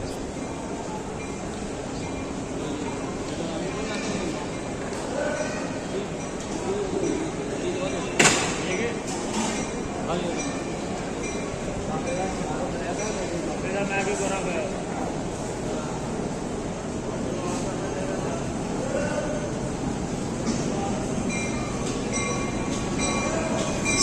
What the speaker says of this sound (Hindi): 8 डाउन तेज़गाम प्लेटफार्म नंबर 4 पर आ रही है।